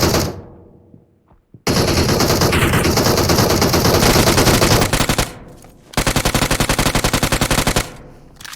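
Automatic gunfire in the mobile battle-royale game PUBG Mobile, loud, close, rapid bursts of shots, one long burst, a short pause, then another rapid rattling burst, with no voices.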